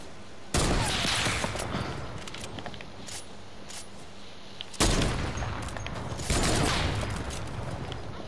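Sharp bursts of gunfire from a Fortnite fight, with several separate volleys cracking out over a quiet game background.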